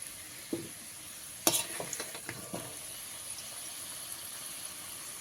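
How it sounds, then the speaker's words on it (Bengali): Shrimp dropped into hot oil in a pan over high flame, a faint sizzle with a few sharp crackling pops and clatters early on, settling into a quiet steady hiss. "আর ওই একই তেলে চিংড়ি মাছগুলো ভেজে নেব"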